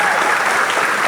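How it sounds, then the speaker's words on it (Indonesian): Dense, lively applause from an audience at a poetry reading, a loud continuous wash of many hands clapping at once, with no voices over it. "diiringi tepuk tangan yang meriah."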